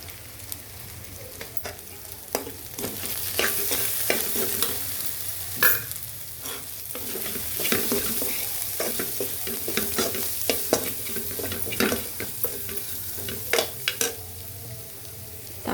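Tomatoes cook with salt, turmeric and chili powder in a pan, a steady sizzle under repeated close spoon scrapes and clacks as the mixture is stirred, no talking.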